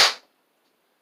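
A toy cap gun firing a single cap with its pan closed: one sharp, loud pop that dies away within a quarter second, leaving silence.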